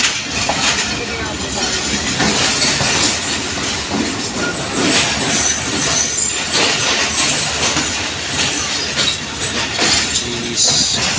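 The Hazara Express, a Pakistani passenger train, rolls along at night with a loud, continuous rumble and rattling clatter of wheels and carriages, heard from inside close up, with occasional squeals.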